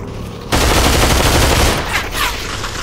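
Rapid bursts of loud gunfire from the virtual reality shooter game Population One fill the clip after a brief quiet start, dense and continuous at close range.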